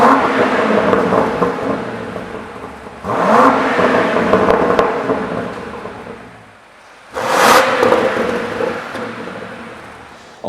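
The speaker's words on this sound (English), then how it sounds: "you're hearing V8 gases mixing in the middle for a much more defined note" A Range Rover Sport SV V8 fitted with a QuickSilver Sport Exhaust revs twice in loud, rumbling bursts, each swelling and slowly dying away, heard up close with no talking.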